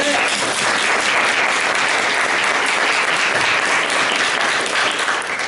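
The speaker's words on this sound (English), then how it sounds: "I would like to have us all give a round of applause to our members who've been working on campaigns" A Unitarian Universalist congregation gives loud, sustained applause for members who worked on political campaigns. The clapping is dense and even, with a murmur of crowd voices underneath.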